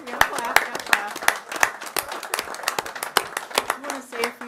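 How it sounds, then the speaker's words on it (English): Scattered clapping at a city council meeting after a motion carries, a few sharp, uneven hand claps heard near with people talking over them. "Clap, clap."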